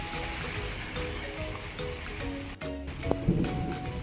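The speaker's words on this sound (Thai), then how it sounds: "ฝนไม่หยุดตกเราทำอะไรไม่ได้เลยเฉอะแฉะไปหมดเลย" Steady rain hissing down continuously on muddy ground, a dense wash of water noise that briefly dips before resuming at the same even level.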